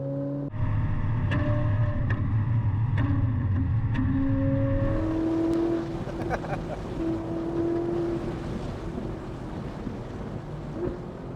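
A Ferrari 458 Italia fitted with a Novitec valved sport exhaust drones loudly at steady revs, then its note shifts lower and rougher with a few sharp crackles and pops as it runs on, with wind noise over the microphone.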